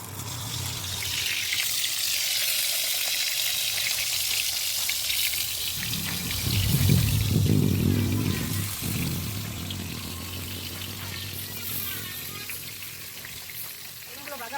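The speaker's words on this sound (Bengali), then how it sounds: "তেলটা যখন গরম হয়ে যাবে বেগুনগুলো তেলের মধ্যে ছেড়ে দেবে।" Eggplant slices frying in hot oil in a wok, a continuous bright sizzle throughout with a brief lower bubbling surge midway; faint voice in the background.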